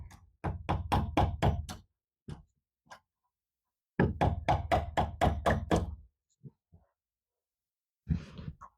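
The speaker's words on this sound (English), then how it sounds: "Rest your edge of your nail or your center punch under the top part of the peg as well to tap it the rest of the way out." A center punch taps a door hinge peg out in quick sharp metallic bursts, two rapid runs of about six knocks each, separated by a few isolated taps and a final softer knock, close and clear.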